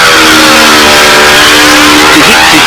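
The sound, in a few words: model airplane four-stroke engine running, burbling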